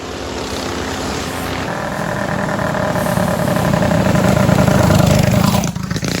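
A Predator 212 Hemi small engine powering a Coleman BT200X go-kart revs hard at top speed, a loud steady buzzing drone that climbs in pitch and intensity as it passes close, then drops off abruptly near the end, with no talking.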